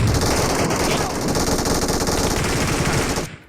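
Rapid automatic gunfire in the PUBG Mobile battle royale game, a dense continuous burst of shots for about three seconds that cuts off abruptly, with a voice calling out underneath.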